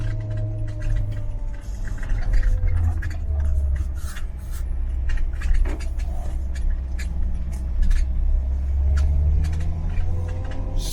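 A car engine rumbles steadily while driving uphill toward the moors near Baildon, with low road noise and engine drone throughout and faint intermittent clicks and rattles inside the cabin.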